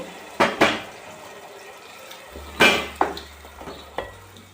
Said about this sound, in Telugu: ఈ జ్యూస్ని పోసేద్దాము చింతపండు జ్యూస్ని